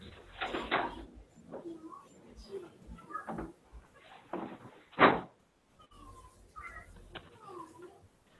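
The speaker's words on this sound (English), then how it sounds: "I got to go and get a little ball in my drawer" A drawer is pulled open and pushed shut while a small ball is fetched, giving a run of soft knocks, slides and thumps with one sharp clunk midway, set against quiet room noise and faint voices.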